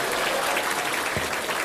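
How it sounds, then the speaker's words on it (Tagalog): Applause from an audience at the close of an AIM Global business presentation in the Philippines, a steady burst of clapping that lasts without a break. "Palakpak!"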